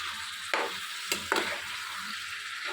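Half a kilo of tomatoes sizzles steadily in a hot pan for a simple tomato curry, with a few sharp scrapes and clacks of stirring breaking through the continuous frying hiss; no one speaks.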